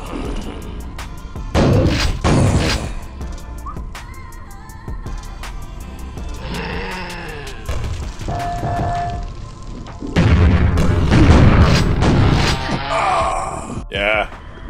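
Rocket launcher blasts in the game Quake, several heavy booms and thuds spread through the stretch, mixed with groaning game sounds and someone talking over the action.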